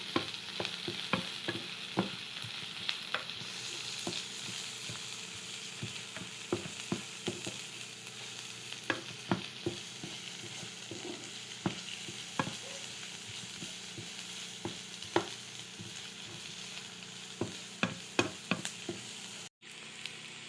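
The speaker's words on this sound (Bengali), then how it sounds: "পেঁয়াজ ভালো করে ভেজে নেব।" Chopped onions and green chillies fry in oil in a pan with a soft, steady sizzle, broken by frequent sharp clicks and scrapes of a spatula stirring, close and without talk.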